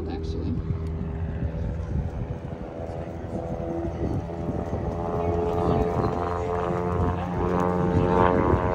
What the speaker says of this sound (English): here's a wonderful knife edge pass where you can get a really great view of the paint scheme of this beautiful Super Decathlon from American Champion with Greg Coots